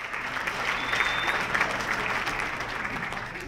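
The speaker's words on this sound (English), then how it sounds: "The crowd cheers as a comedian takes the stage" A comedy club audience at the Laugh Shop in Calgary cheers and applauds a comedian taking the stage, a dense, steady wash of clapping from a large crowd with no speech on top.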